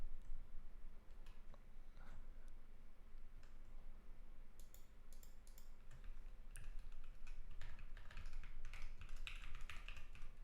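Computer keyboard keys pressed repeatedly, including the tab key, while coding PS2 game software; scattered light clicks that turn into a denser, faster patter of typing near the end, soft and close, no speech.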